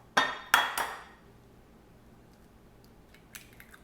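Eggs cracked two-handed against a bowl: two or three sharp, close shell taps in quick succession, followed by quiet silence and a couple of faint clinks.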